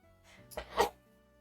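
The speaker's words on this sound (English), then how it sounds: "Sorry, I just sneezed all over you." A single sneeze bursts out indoors over low background hum, a short sharp broadband blast preceded by a brief intake, with faint speech-like sound around it.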